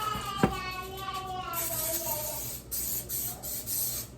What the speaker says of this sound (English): Just make sure you're spraying that pan.